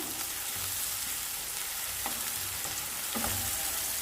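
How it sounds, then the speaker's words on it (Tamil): Small onions sauté in a pan for broken-egg kulambu, giving a loud, steady, dense sizzle that runs unbroken throughout, with faint stirring movements underneath and no talking. "வெங்காயம் நல்லா வதங்கட்டும்"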